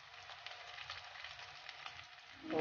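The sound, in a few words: chicken frying in a pan for spaghetti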